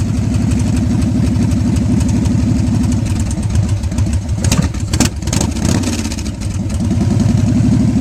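A motorcycle engine runs with its choke on, a steady loud idle with a rough low throb, dipping briefly in the middle before settling back to an even drone.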